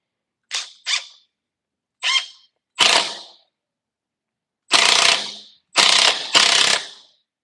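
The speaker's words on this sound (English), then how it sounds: "This is our 1/2-inch Makita rattle." Half-inch Makita impact wrench driving eight-inch timber screws, heard as seven sharp mechanical rattling bursts, short at first then longer, loud and close with silent gaps between and no talking.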